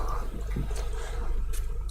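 Water jet pump inside a palm oil press exhaust gas treatment machine, giving a steady, continuous rush of churning water over a deep mechanical hum, close and fairly loud, with a few brief splashy bursts and no voices.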